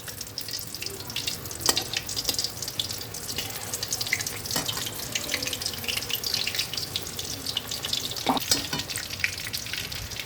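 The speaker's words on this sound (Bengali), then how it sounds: "তেলটা হয়ে গেছে, এবার আমি প্রনটা ছাড়ছি।" Prawns dropped into hot oil and frying for golden prawns, a continuous hiss of sizzling with occasional sharp clicks and scrapes of turning, moderately close.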